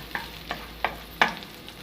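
Garlic stir-frying in a hot pan, a low sizzle punctuated by four distinct spatula scrapes at a regular pace, close and clear with no talking.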